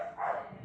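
A dog gives a single short bark or yip from a distance, muffled and moderately quiet, in an indoor room.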